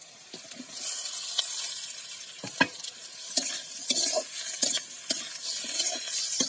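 Pointed gourd (potol) frying in a pan with a steady sizzle, punctuated by repeated scraping and clinking stirs of a spatula at close range, with no talking.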